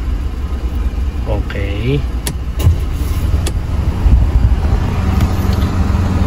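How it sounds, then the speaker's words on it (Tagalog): A car engine idles steadily with its air conditioning switched on, a continuous low rumble throughout, with brief clicks and a spoken word over it. "Ngayon papaandarin na naman natin yung kanyang aircon."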